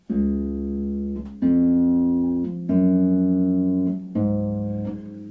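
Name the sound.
harp played with open thumb technique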